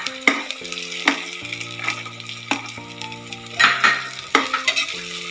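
Onion with green chilli, carrot, beans and peas frying in a pan for hotel-style khara bath, a sizzle punctuated by repeated clattering spoon strikes, close, with steady background music underneath.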